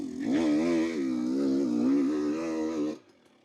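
A 300cc race-ready dirt bike engine pulls close-up, its buzzing, slightly wavering note steady for about three seconds before dropping away suddenly into quiet.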